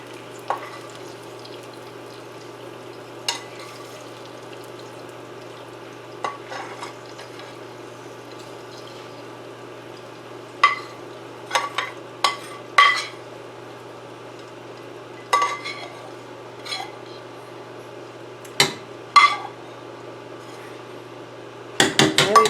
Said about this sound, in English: I'm going to add the sausage without as much of the grease as I can.